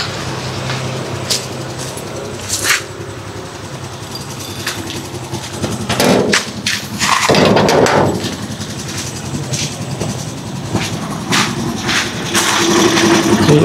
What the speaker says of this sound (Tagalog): Ay, pakatahimik ng makina ng ating trike.